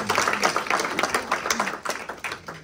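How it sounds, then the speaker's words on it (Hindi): Short burst of applause for a community member at a remembrance gathering, a quick patter of hand claps that fades within a few seconds. "तो इनके लिए एक दफा तालियां होंगी"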